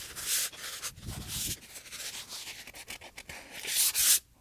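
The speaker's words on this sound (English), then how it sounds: "I think that's sanded good enough." Sandpaper of 150 grit rubs back and forth over a dinghy transom in close, rough, scratchy strokes, several rhythmic passes with brief pauses between them.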